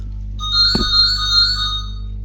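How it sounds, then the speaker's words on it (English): A home telephone rings behind a steady low electrical hum, giving a sustained warbling electronic tone lasting over a second, with a brief thump near its start. "My home telephone is ringing."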